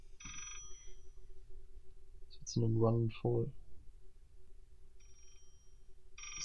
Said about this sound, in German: Das Telefon ist in die Richtung.